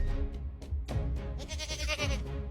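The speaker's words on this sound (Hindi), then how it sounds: "ये तो मेरी बकरी की आवाज है।" A goat bleats repeatedly, wavering cries rising and falling over a few seconds, fairly close and clear.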